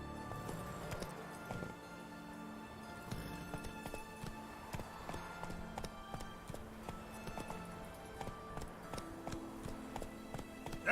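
Roach, Geralt's horse in The Witcher 3, gallops with steady rhythmic hoofbeats over ground, clip-clopping quietly in a continuous pattern beneath soft game music.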